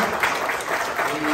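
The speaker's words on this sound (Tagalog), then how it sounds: "pumalakpak po lahat ng mga pinagpalang ng Diyos sa araw na ito" A church congregation applauds at a Sunday service, a dense, even clatter of many hands clapping throughout, close and steady with no pauses.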